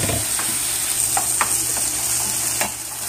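Chicken pieces frying in hot oil in a small pot, a steady close sizzle with scattered crackles and pops and a few soft scraping stirs, no voices.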